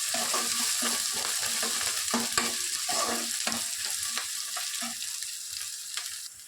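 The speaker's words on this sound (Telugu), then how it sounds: "క్యారెట్ ముక్కలు, కొన్ని క్యాప్సికమ్, వీటిని ఒక 2 మినిట్స్ వరకు ఫ్రై చేయండి." Carrot and capsicum pieces fry in a pan for egg semiya upma, with a spoon stirring in quick rhythmic scrapes over a bright sizzle that slowly fades a little toward the end.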